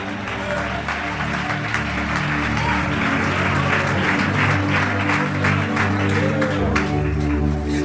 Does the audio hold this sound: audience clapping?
yes